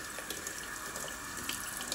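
Water runs from a tap in a steady, quiet stream, splashing softly as Brussels sprouts are rinsed beneath it.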